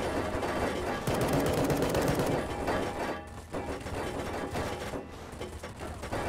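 Rapid gunfire while shooting an enemy in Fallout: New Vegas, dense continuous bursts with brief pauses and mechanical clatter, fairly quiet overall.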